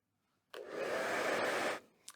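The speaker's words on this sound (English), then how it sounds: "I have to hold the dryer this far away from the tester" A hair dryer with a 220-degree maximum temperature and a 90-degree cool shot blows in one steady, loud burst of about a second and a quarter, beginning abruptly and then cutting off cleanly, with nothing else heard over it.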